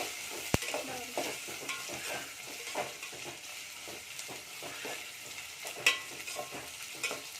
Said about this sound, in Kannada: ಆಮೇಲೆ ಆಲೂಗಡ್ಡೆ, ಇದೊಂಚೂರು ಫ್ರೈ ಮಾಡ್ಕೋಬೇಕು ಕಲರ್